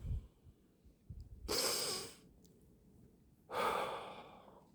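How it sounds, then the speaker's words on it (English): Two deep breaths, each a long breathy rush of air in and out, separated by quiet pauses. They are close, soft and unvoiced. "Take a deep breath."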